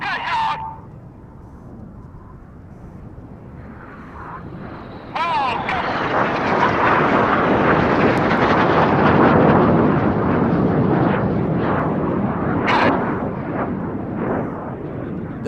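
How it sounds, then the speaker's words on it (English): Four Red Arrows jets descend to about 100 feet during an air display, building into a loud, sustained roar that swells and holds. A commentator talks over the jet noise. "These 4 jets are now descending to just 100 feet."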